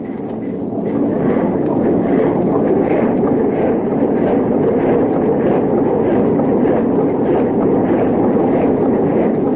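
A ship's engine runs full steam astern as a radio drama effect, a loud, continuous low rumble and churning roar with a faint rhythmic pulse, steady for the whole stretch.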